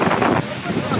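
Strong storm wind in Cornélio Procópio, gusts raising a huge dust cloud, a loud roaring buffet across the microphone, steady and close for a brief moment.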